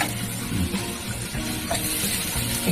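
A hilsa fish head cooks with green and ripe mango in a pan, making a close, continuous sizzle and bubbling with soft stirring scrapes and no speech.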